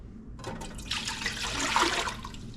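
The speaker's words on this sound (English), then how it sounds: "we're gonna add 8 cups of water" Water gushes steadily into a cooking pot on a stove, a continuous pouring rush that begins abruptly and swells slightly as the pot fills, with no talking.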